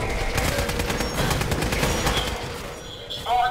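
Rapid automatic gunfire from a gun in Fallout 4, loud and sustained in a fast stream of shots that stops near the end, followed by a short electronic tone.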